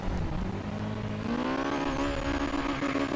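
Mazda RX-8 in the Forza Horizon 3 racing game, stock, its engine droning steadily and rising in pitch as it accelerates, loud and continuous with no voices.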